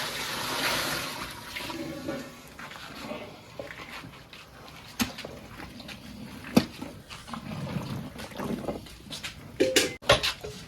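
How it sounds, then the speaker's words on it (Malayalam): Water poured into a cooking pot to boil rice for Ravuther-style biryani: a sloshing, splashing pour that runs through the clip, with clinks and knocks from the pot near the end. "ഇതിലേക്കും ചോറിന് ആവശ്യമായിട്ടുള്ള വെള്ളം ഒഴിക്കാം"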